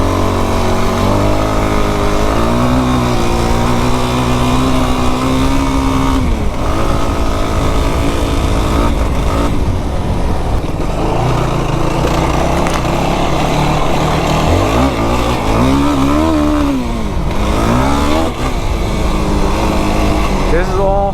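A 2025 Yamaha YFZ450R quad crosses an angled desert washboard trail, its engine droning loud and close throughout with wavering pitch as the throttle rises and falls, a voice talking over it at times.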